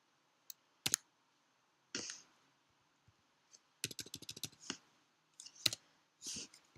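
Intermittent keystrokes on a computer keyboard while writing HTML code: scattered single clicks and short quick bursts of typing with pauses in between, close and fairly quiet, with no one speaking.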